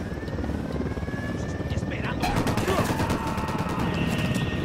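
A helicopter arrives in the video game Ghost Recon Wildlands, its rotor thump building louder midway, with bursts of gunfire and radio voices over it.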